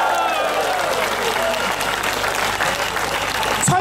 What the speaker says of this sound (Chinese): 给蔡希利一个掌声